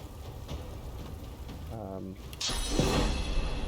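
Rain patters steadily during a turn-based battle in the video game Divinity Original Sin II, a continuous wash of droplets under game effects, then a louder burst of crackling, like a spell, near the end while a player talks.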